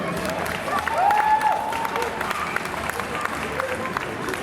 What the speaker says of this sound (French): On applaudit très fort Stéphanie.